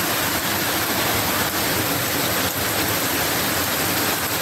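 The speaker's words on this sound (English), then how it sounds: "Water running from all direction. From off the road coming down." Rainwater rushes off a farm field and down from a road in a dense, continuous roar of running water, loud and unbroken, like a stream in flood.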